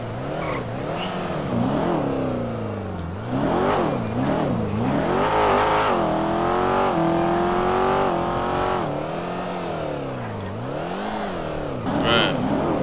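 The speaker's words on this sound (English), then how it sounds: "This car is so loud, bro." A custom widebody C8 Corvette in GTA 5 revs hard and loud, its engine pitch sweeping up and down repeatedly through rising and falling climbs with a brief lull, while someone speaks now and then over it.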